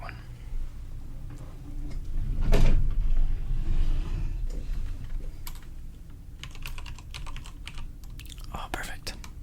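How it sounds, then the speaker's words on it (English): A computer keyboard is typed on in a quiet indoor ASMR setting. Soft, irregular key clicks come close to the microphone in bursts, with a busier flurry near the end. A low voice murmurs and whispers underneath. "I have another keyboard, maybe I'll use that one."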